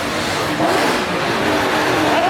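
A loud, continuous roar of a car engine revving hard, rising and falling in pitch, close and harsh.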